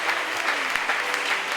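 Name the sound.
church congregation applauding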